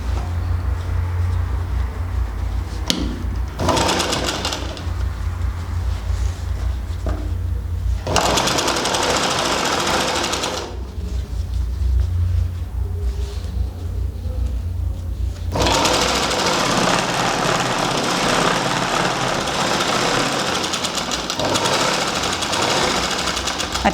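A sewing machine stitching fabric pieces of a baby frock runs loud and close with a steady, fast mechanical whir, stopping briefly a few times before starting up again.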